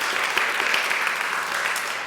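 Loud, dense applause from a large audience at a horse show gathering, a continuous wash of clapping sustained evenly across two seconds with no voices on top.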